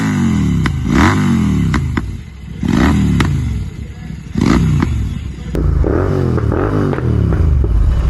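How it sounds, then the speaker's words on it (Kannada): A Continental GT 650 motorcycle fitted with a Red Rooster aftermarket silencer revs close by, loud throaty bursts rising and falling in a repeated rhythm, with clattering mechanical and exhaust character between blips. "ಸೊ ಯಾವ್ದು ಬೈಕ್ ಅಂತಂದ್ರೆ ಕಾಂಟಿನೆಂಟಲ್ GT 650. ಸೊ ಇದ್ರಾಗ ರೆಡ್ ರೂಸ್ಟರ್ ಸೈಲೆನ್ಸರ್ ಇನ್ಸ್ಟಾಲ್ ಮಾಡೀನಿ."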